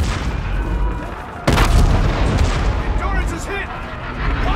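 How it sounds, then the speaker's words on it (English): Heavy gunfire booms in the Call of Duty: Infinite Warfare campaign, with a sudden loud blast and sustained rumbling fire under spoken dialogue and battle noise. "Our Aedis guns are still firing on our fleet."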